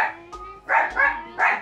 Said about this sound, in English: We're hiding from a dog.